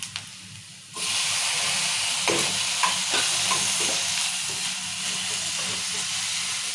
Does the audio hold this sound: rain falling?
no